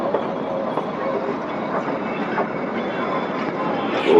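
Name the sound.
Kalka-Shimla toy train running on rails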